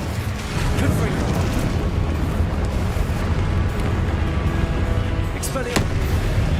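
Confringo spell explosions in the video game Hogwarts Legacy, dense rumbling booms and crackling bursts sustained loudly throughout amid busy combat noise, with a sharp whoosh near the end.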